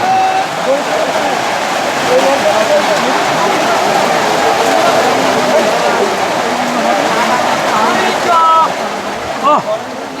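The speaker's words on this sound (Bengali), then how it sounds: "প্রচুর বৃষ্টি হচ্ছে" Heavy rain pours steadily at an outdoor cattle market, a dense, loud hiss of water filling the whole stretch with people talking underneath.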